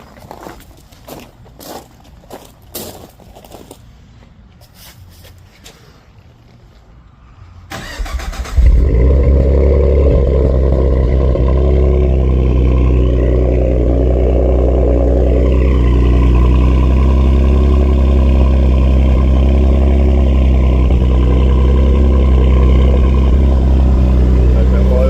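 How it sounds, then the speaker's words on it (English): A Ford F-150 with the 3.5 EcoBoost engine and 156K miles cranks on a cold start after a few footsteps and clicks, catching abruptly into a loud, steady high idle that holds close up. "we're gonna go ahead and start the car"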